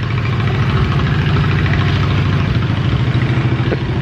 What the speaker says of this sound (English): yeah, I recognize that tractor.